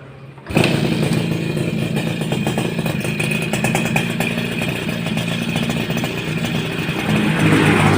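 A Suzuki RC100 motorcycle engine catches after a quiet start and settles into a steady, close running idle with a clattery, busy tone that holds for the rest of the stretch.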